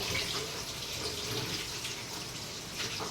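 Leaves rinsed under running tap water in a kitchen, a soft continuous splashing and trickling with small fluctuations, fairly quiet and close, with no voices.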